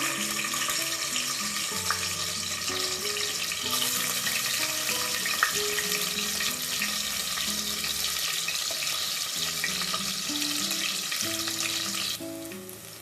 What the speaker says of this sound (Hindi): एक अलग पैन में मैंने ऑयल और थोड़ा सा घी इस्तेमाल किया है। गरम हो चुका है, शामिल करूंगी प्याज।